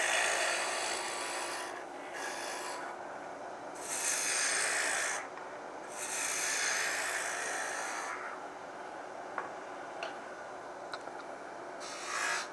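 Spindle gouge cutting the top detail of a wooden honey dipper spinning on a lathe, a steady close rasping scrape that swells and eases in several long passes, with brief lighter ticks toward the end and no talk.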